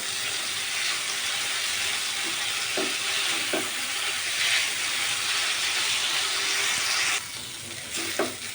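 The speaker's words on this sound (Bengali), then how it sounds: "আলুটা একটু সুন্দর করে ভেজে নেবে" Potatoes and spices frying in a pan for an egg curry, a steady broadband sizzle with occasional scraping stirs of a spatula, close and continuous with no talk.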